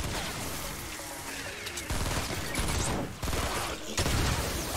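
Gunfire from the Fortnite: Save The World PC game: dense, continuous volleys of rapid shots, loud and close, with heavy bursts that keep rising and falling in clusters throughout.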